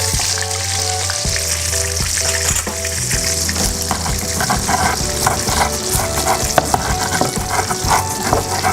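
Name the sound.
tempeh frying in oil, being turned over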